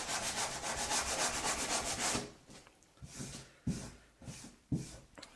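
Wooden model airplane parts being sanded with 120-grit sandpaper, first a rapid continuous back-and-forth rubbing, then slower separate strokes with pauses, close and clear.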